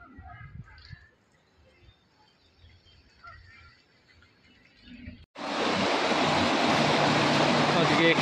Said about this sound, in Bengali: আজকে এখানে জল ভরছে